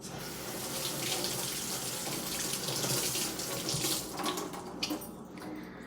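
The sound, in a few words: running water rinsing makeup brushes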